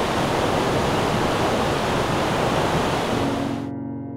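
A steady, dense roar of a waterfall fills the clip at close range, loud and unbroken until it cuts off near the end.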